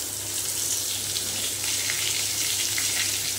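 Masala-stuffed pointed gourds (patol) fry gently in oil in a kadai, giving a steady, even sizzle and hiss from start to finish over a faint low hum.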